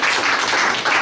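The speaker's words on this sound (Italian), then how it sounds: "Adesso c'è un applauso a Luciano De Crescenzo." A brief, loud burst of audience applause on an Italian talk show set in a café, honouring Luciano De Crescenzo, a close, dense patter of many hands with no talk over it.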